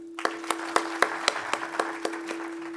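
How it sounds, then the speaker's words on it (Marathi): An audience at a GNM nursing students' lamp lighting and oath ceremony gives rhythmic unison applause for a madam, about ten evenly spaced claps, fairly faint, over a low steady hum. "मॅडमसाठी टाळ्या."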